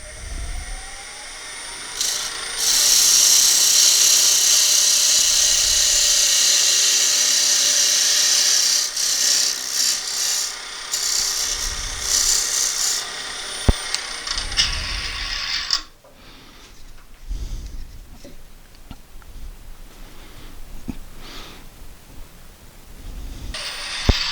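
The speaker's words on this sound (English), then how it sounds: "maybe cut about 1/2 inch of a plug" A woodturning lathe spins while a tool cuts a small wooden plug, giving a loud whirring, scraping drone for the first half that gives way to quieter tool clicks and handling noises.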